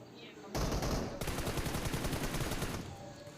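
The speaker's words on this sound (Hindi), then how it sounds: "मेरे को ऊपर से स्नाइपर शॉट की आवाज़ आई" PUBG Mobile gunfire, with sniper shots and rapid bursts: a sharp onset at half a second, then dense, continuous rattling shots for over two seconds before fading, fairly loud and close.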